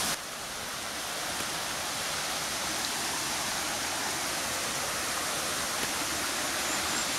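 Hot waterfall at Kerosene Creek, a geothermal stream, pours in a steady, broad rush of falling water that holds constant and fairly close throughout, with no voices over it.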